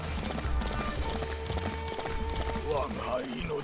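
Rapid hoofbeats clip-clop at a gallop in the video game Samurai Warriors 5, under a voice talking loudly, with a continuous rumble of game sounds around them.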